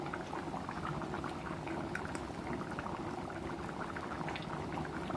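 Egg curry boils steadily in a pan on the stove, a dense, continuous bubbling simmer with small pops throughout, close and even, with no talking.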